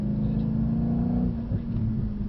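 Car engine rising steadily under light throttle during a driving lesson, a continuous close rumble and whir that builds smoothly across the whole stretch with no talk over it.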